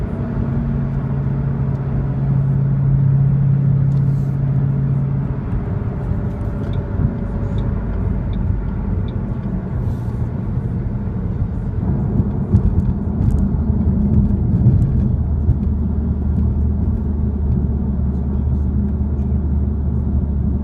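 A 2007 Ford Shelby GT500 on the road, its engine a steady low rumble from inside the cabin, rising and settling slightly as it drives on, with a faint voice now and then.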